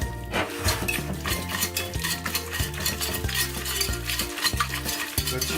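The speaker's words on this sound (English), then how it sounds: "You just need to whisk it and incorporate a little bit more water" A whisk beats thick kimchi paste with added water in a pot, producing fast, rhythmic metallic scraping and clinking against the sides, close and steady throughout.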